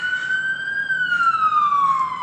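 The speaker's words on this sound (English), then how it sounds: "Ambulance." Ambulance siren on a street, a loud, steady wailing tone that sweeps slowly up then down, sounding close and continuous throughout with faint road noise beneath.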